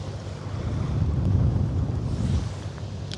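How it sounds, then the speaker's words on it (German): Strong wind of force 4 on the Elbe river roars steadily into the microphone, a broad low rumble that swells in the middle and then eases, with no voices. "Jetzt haben wir Windstärke 4."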